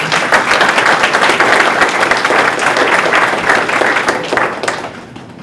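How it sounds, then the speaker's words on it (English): A crowd applauds warmly at an award ceremony for an essay and creative arts contest, dense clapping sustained for several seconds before tapering off near the end. "Please give a warm round of applause."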